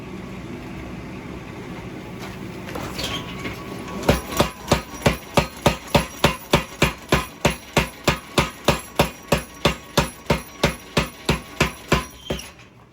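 Heavy hammer blows forge-welding a Damascus steel billet, a steady run of roughly twenty loud, evenly spaced strikes that start after a few seconds of low forge roar and continue to the end with no talk.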